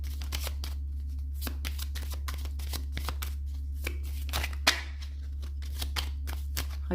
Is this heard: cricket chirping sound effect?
no